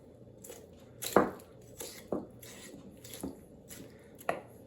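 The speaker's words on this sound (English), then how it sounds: "always start with the wing" A knife cuts through a turkey wing on a kitchen board, giving a few separate crunching chops spaced about a second apart, with the first the loudest and the rest fainter against a quiet hum.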